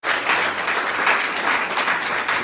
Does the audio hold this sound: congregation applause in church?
yes